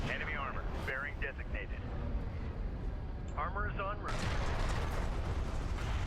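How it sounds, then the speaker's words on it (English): Cannon fire and battlecruiser guns in a space strategy video game battle, booming volleys rumbling continuously under excited commentary. "Nice cannon fire there"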